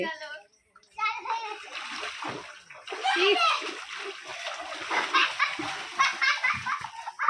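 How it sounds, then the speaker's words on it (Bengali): A child sits in floodwater inside a flooded house, slapping and splashing it in quick, irregular bursts close by, while the child babbles and an adult talks over the splashing. "দেখো বসে বসে কিরকম জল ঘাঁটছে"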